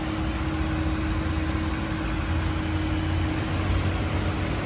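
A 2018 Dodge Challenger GT with all-wheel drive and a 3.6-liter V6 idles in a steady, even low rumble, close and constant with a faint high whine, no voices.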